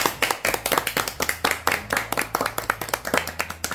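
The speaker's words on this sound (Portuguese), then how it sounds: "Uma salva de palmas especiais." A small group claps in a brisk, even rhythm, each sharp hand clap standing out close and loud with no talking over it.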